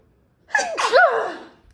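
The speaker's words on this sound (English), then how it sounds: "I'm gonna sneeze" One loud, close sneeze with a sharp intake and a burst of air, followed by a brief trailing breath.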